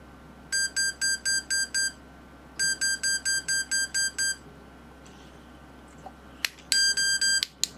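A Maxitronix 20-in-1 electronics kit robot's buzzer sounds in rapid pulsed beeps, two bursts of about seven to eight short tones each and a final shorter burst, clear and electronic over a quiet background hum.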